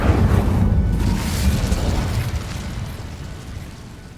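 An Incendio fire spell in Hogwarts Legacy erupts as a loud, roaring burst of flame that holds for a couple of seconds, then settles into a softer, rumbling fade.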